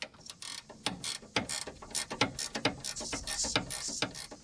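A ratchet tightens the bottom of a sway bar link on a Toyota Highlander, rapid close clicking in short bursts of strokes, loud and uninterrupted by talk.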